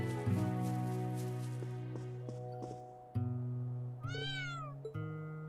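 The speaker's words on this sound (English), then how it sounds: "Cute cat." A cat meows in Trails of Cold Steel III: one clear rising meow over steady music, plus a short chirp near the end.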